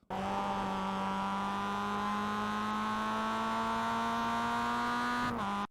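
A Mazda MX-5 race car engine at Okayama in iRacing holds a loud, steady high drone with a slowly rising pitch, then dips abruptly near the end as if shifting or lifting off the throttle.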